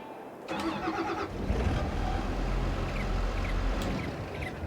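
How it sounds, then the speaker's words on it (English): A video-game Case IH 250 Series tractor engine turns over and settles into a steady, rumbling idle, with a few clicks and beeps on top; no one speaks. "Not bad engine."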